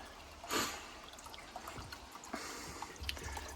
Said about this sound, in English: turn it on, and then we fill up the water filter